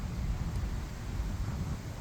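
Steady low wind rushes outdoors at a highway rest area in Elkhorn, rumbling across the microphone as a continuous broadband roar with no voices.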